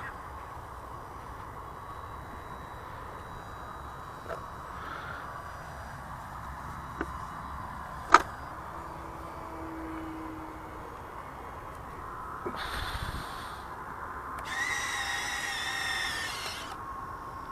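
Electric retractable landing gear on an FMS T-28 RC plane cycles in short, faint whirring motor bursts with a sharp click in the middle, over quiet outdoor background without speech.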